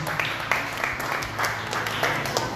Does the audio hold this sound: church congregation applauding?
yes